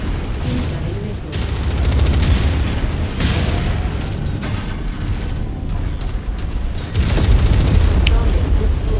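Missile explosions in the mech combat game MechWarrior 5 Mercenaries, heavy booms and rumbling blasts rolling continuously with mechanical clatter under game voice chatter.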